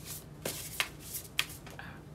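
Soft, quick riffles and taps of cards being shuffled, a few distinct flicks spaced across a quiet room, close by and without talking.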